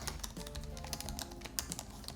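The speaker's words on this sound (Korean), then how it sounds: "완벽한 풀사이즈 키보드에 키 트래블도 2mm 정도 나오고 타건감도 아주 부드럽고 좋습니다." Rapid, close-up typing on the full-size keyboard of an HP EliteBoard G1a keyboard PC with about 2mm key travel; a quick, uneven run of soft, light key clicks with no voices.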